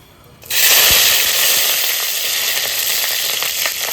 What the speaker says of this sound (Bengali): আর লাল শাক ভাজায় ফোড়নে দেবো রসুন